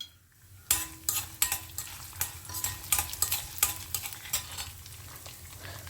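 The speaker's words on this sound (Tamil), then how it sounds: "இது பெருங்காயம் இது நல்லா பொரிய ஆரம்பிக்கட்டும், செவக்கட்டும்." Asafoetida, fenugreek seeds and urad dal frying in oil for a mango gojju, heard as a quiet sizzle broken by repeated scraping stirs of a spoon against the pan, nearby and fairly soft.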